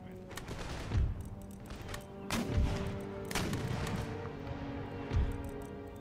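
Musket volleys from Jaeger infantry crash out in Empire Total War. Four heavy rolling fusillades come a second or two apart over a dense, continuous battle din.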